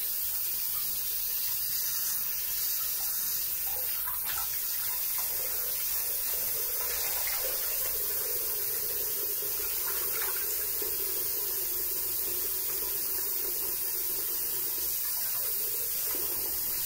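Water runs steadily from a tap, a continuous hissing spray that holds constant throughout, with occasional faint clatter in the background and no talking.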